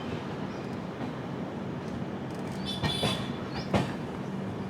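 The 16334 Trivandrum Veraval Express rolls slowly through a 15 km/h loop line. A steady, moderately loud rumble of wheels carries scattered clicks and brief metallic squeals, with no talking.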